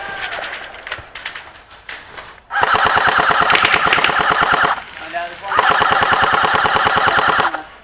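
Airsoft guns rattle off in two long rapid bursts during a village-defence skirmish, loud and close, after a few scattered shots and shuffling.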